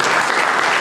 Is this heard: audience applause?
yes